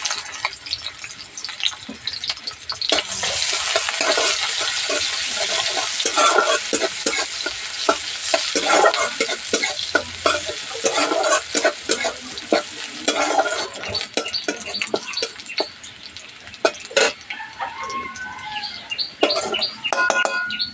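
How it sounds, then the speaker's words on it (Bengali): Onions and chillies fry in hot oil for a homemade flour noodle dish, a steady loud sizzle broken by frequent scraping stirs and clinks of a utensil, with no talking. "তেলটা গরম হয়ে গেছে এবার দিয়ে দেবো পেঁয়াজ ঝাল"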